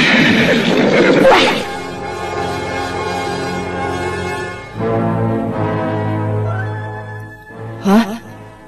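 A horse neighs as a statue of a white horse comes to life in a story, with narration voiced over the sound and a brief sharp whinny near the end.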